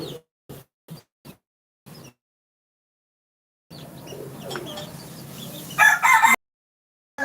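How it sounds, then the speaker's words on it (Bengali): Chickens and a rooster on a small poultry and pigeon farm crow and cluck from a moderate distance, a steady layer of bird calls building toward a louder crow near the end, preceded by a few sharp isolated knocks. "দেখতে পাচ্ছেন ওই যে বন্ধুরা ওগুলো আমার সব বাসার মুরগি"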